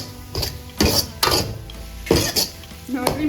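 A spoon stirs vegetables with Madras curry masala and salt in a metal pan, giving several sharp clanks and scraping strokes at an irregular rhythm, close and fairly loud.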